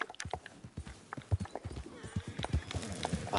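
Horse hooves in Red Dead Redemption 2 while hunting in New Austin, a close, rhythmic clip-clop of a horse walking, the steps loud and distinct, carrying on steadily alongside ambient game sounds.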